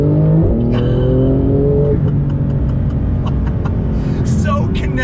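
A Porsche 911 GT2 RS accelerates on throttle, its engine droning loud with rising harmonic tones from inside the cabin, while rapid ticking clicks come through over the steady roar.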